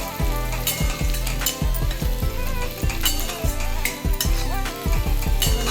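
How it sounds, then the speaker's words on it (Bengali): Onions frying in a pan for a Bengali taro-leaf paste meal give a steady close sizzle and crackle, with repeated low thumps and a tonal backdrop running underneath throughout. "দেখুন বন্ধুরা এই পেঁয়াজটা ভালো করে ভেজে নিচ্ছি"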